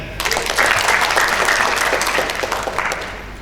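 An audience at a national retreat event breaks into dense, loud applause that swells quickly, holds steady and then begins to taper, with no speech over it.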